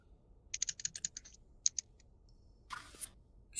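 Rapid keyboard typing with a typewriter-like clatter, a quick burst of sharp clicks followed by a couple more keystrokes and a brief rustle.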